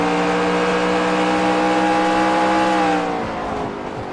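Onboard race car engine from a sportscar racing video game at Sebring, a sustained high-revving drone with steady harmonics that drops in pitch near the end as the car slows for a corner, loud and continuous with no talk.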